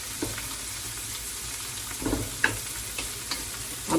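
Food sizzling in a pot at the start of green pea soup with neck bones, a steady close frying hiss with a few soft clinks and stirring scrapes.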